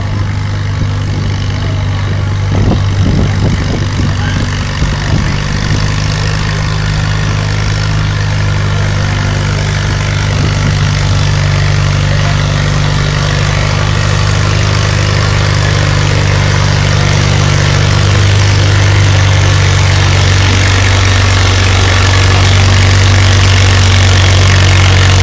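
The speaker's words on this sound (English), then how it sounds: "They've won lots of tractor pulls on this tractor." A vintage tractor engine runs steadily at a county fair tractor pull in Parowan, Utah, its loud low idle droning continuously throughout, with no talk.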